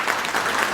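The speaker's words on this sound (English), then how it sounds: "he deserves a clap" An audience claps for a teacher at an experience-sharing gathering, a dense, continuous patter of many hands, loud and steady with no voices over it.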